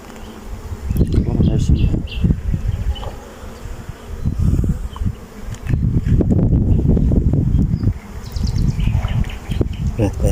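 Honey bees and drones buzz densely around an open hive, a loud, continuous close drone that swells and dips, with people talking at times over it.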